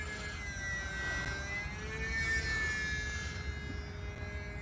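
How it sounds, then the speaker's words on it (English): A small E-flite UMX Turbo Timber RC airplane buzzes overhead with a steady, high-pitched electric whine that rises and falls slightly as it passes, fairly faint and alone. "I sure do love flying this airplane"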